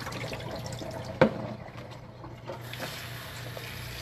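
Water trickles and splashes as it is poured, with a brief sharp clink of a container near the start, then quieter flowing and dripping in a small indoor space.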